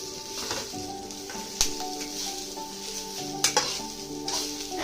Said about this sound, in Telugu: తర్వాత ఇంకా ఆనియన్స్ కూడా వేసుకొని వేగించుకోవాలి